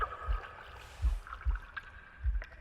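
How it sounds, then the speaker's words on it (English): Water gurgles in the video game The Last Campfire, soft bubbling with low rhythmic thumps recurring about every half second, faint and alone without speech. "The gurgling of water, a deafening heartbeat."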